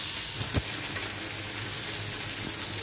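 Fish curry bubbling at a boil in a pot, a dense continuous sizzling hiss with faint bubbling pops, close and steady throughout with no talking.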